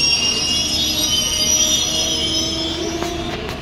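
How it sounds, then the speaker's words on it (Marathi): Nagpur–Madgaon festival special express train pulling into a station, a loud continuous rumble with high metallic wheel squeal that persists throughout and eases slightly toward the end. "नागपूर मडगाव एक्सप्रेस, नागपूरवरनं येणारी फेस्टिवल स्पेशल गाडी आली आहे"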